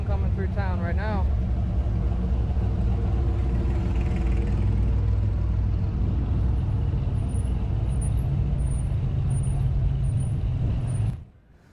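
A steady line of vehicles rolls through town during the Elizabethton, Tennessee car show, a loud continuous engine and road rumble with a brief hiss near the start, holding level until it cuts off abruptly at the end.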